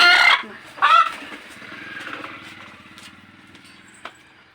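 A rooster crows loudly and close at the start and again near one second, with fainter clucking and farmyard sounds continuing beneath.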